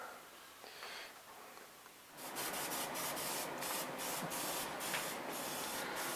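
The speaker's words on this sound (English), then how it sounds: "he's spraying the inside of this Dutch oven with some olive oil." A steady hiss of an olive oil spray into a Dutch oven starts after a quiet moment and continues in pulsing bursts, close and fairly loud.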